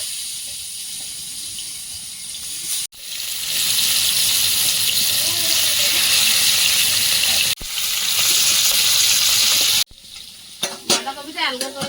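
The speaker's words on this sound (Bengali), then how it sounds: "মাছ ভাজতে শুরু করে দেব ফ্রাই প্যানে তেল দিয়ে দেব" Steady, loud sizzling of bhetki fish pieces frying in hot oil in a frying pan, with brief breaks and some clinks and scraping near the end.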